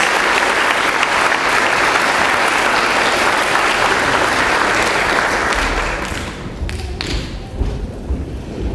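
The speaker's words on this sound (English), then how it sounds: "Let's give another round of applause to the students in the Department of Criminal Justice, History, and Social Sciences" Sustained, loud crowd applause at a 2013 academic convocation honouring criminal justice, history and social sciences students, steady for about six seconds before thinning out and tapering off.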